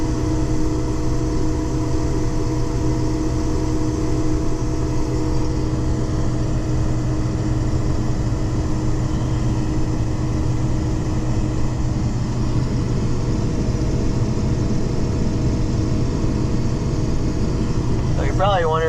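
A combine harvester unloads soybeans through its bubble auger at a timber farm field, a loud, steady mechanical drone of engine and auger running continuously, close by and without break.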